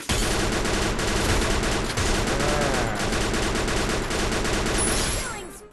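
Rapid gunfire from a Free Fire battle-royale match, dense volleys and bursts of shots running loud and nearly continuous before fading at the end, with some game sound effects mixed in.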